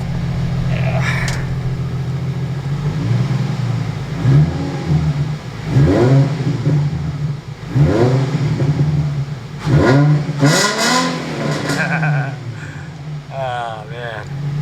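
A 2008 Nissan 350Z drift build idles with a steady low drone, then its engine is blipped about five times in quick succession, each rev swelling sharply and falling back, loud and close.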